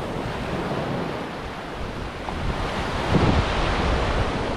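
Continuous roar of surf washing ashore on a pink sand beach in Matnog, Sorsogon, broad and loud, building slightly toward the end with wind buffeting the microphone.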